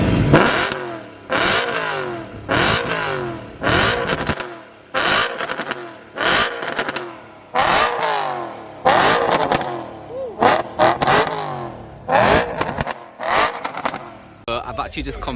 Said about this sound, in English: give his E92 some revs